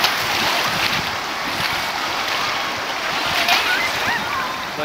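Small waves wash steadily against a lake shore at Sandbanks Provincial Park while someone wades in past the knees, a broad continuous rush of water with light wind buffeting the microphone.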